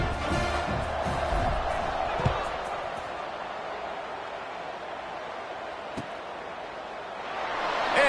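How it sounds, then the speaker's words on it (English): A football stadium crowd buzzes after a score, a steady roar of distant voices filling the space, with a couple of faint thuds and a swell of cheering near the end. "this crowd is buzzing after that last score."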